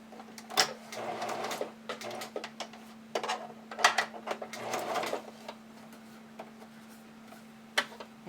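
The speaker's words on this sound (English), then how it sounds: "we're going to stitch it along the bottom here using a zigzag stitch" A sewing machine runs a zigzag stitch in short bursts of rapid mechanical ticking, close and moderately loud, separated by pauses, over a steady low motor hum.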